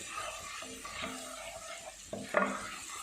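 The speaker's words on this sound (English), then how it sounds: "And just mix in that oil" Oil being stirred into a white peas chaat mixture with a spoon, giving soft scraping and stirring sounds with a light sizzle-like hiss, then a couple of louder clinks near the end.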